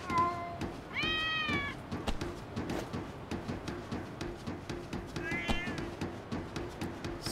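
Cats meowing in the video game Lost Judgment: two clear, drawn-out meows a few seconds apart, heard over a rhythmic game music backdrop with steady ambient noise.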